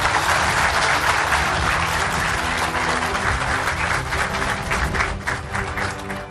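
A large audience applauds steadily at the end of a speech by the president of the Dominican Republic, a dense, loud wash of clapping that thins slightly toward the end.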